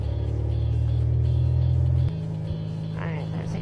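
Simulated Cessna 172 piston engine held at 1800 RPM for a run-up, a loud steady drone that drops slightly in pitch and level about two seconds in during a magneto check, with a brief higher whine near the end.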